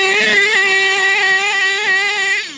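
The nitro engine of an HPI Savage RC monster truck, a small 0.28 unit, screams at high revs with a sharp buzzing whine, close and loud, its pitch dipping briefly before it fades at the end.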